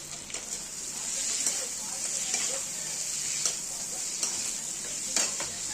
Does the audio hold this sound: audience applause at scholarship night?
no